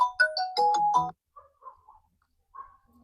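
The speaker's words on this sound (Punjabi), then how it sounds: "ਆ ਫੋਨ ਆ ਗਏ ਦੀਦੀ ਦਾ ਹੀ ਆ ਮੰਮੀ" A phone rings for an incoming call with a short, bright melodic ringtone phrase, followed by a few quieter, scattered tones of the tune before it stops.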